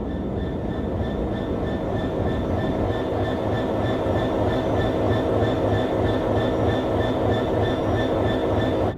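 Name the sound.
train passing on railroad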